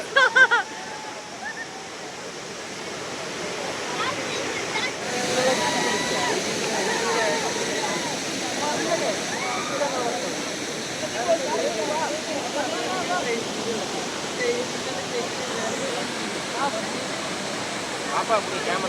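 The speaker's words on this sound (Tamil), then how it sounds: "அருவிக்கு பேரு வாட்டர் ஃபால்." A waterfall in Kanthalloor, Kerala, roaring as a continuous broadband rush with mist in the air. The roar stays steady throughout while people talk nearby.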